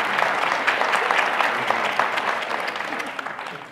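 Audience in a theater venue breaks into dense, lively clapping, loud and close, with scattered sharp hand claps standing out as the applause slowly tapers toward the end.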